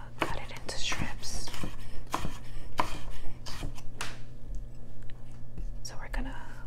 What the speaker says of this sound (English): So now we're gonna cut it into strips.